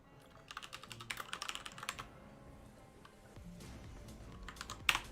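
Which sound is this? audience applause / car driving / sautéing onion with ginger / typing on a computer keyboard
typing on a computer keyboard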